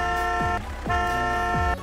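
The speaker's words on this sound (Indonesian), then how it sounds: "Untuk klaksonnya ternyata sama guys. Ini kayak truk pada umumnya, nggak ada bedanya." A fire truck horn in the Roblox CDID driving game honks in three blasts, the first two long and the last shorter, each sharp-edged and steady-pitched, loud and alone.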